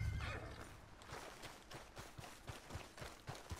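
A horse in the video game Red Dead Redemption 2 gives a loud, drawn-out whinny, followed by a string of steady hoof clip-clops, with no talking.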